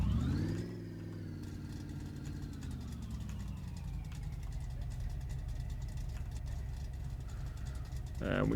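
A car engine in Car Mechanic Simulator revs briefly, then settles into a steady low idle with a faint whine as it reverses, and a short rising rev comes at the end.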